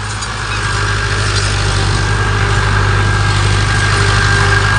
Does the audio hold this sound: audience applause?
no